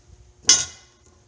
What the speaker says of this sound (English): we're going to pop the lid off and see how we did with this stuff